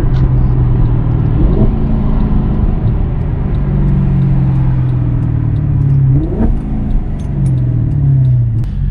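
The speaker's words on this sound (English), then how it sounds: "just kind of tap the gas, and it starts to have a little burble" Maserati GranTurismo engine burbling through downshifts inside the car, a loud continuous low rumble with a couple of rising rev blips and faint crackles, no talking.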